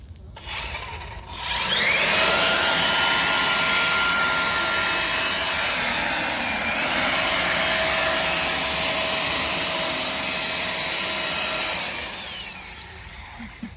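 A Ryobi leaf blower starts up and runs steadily at close range, a loud continuous whooshing roar with a whining motor tone that holds level for over ten seconds before easing off.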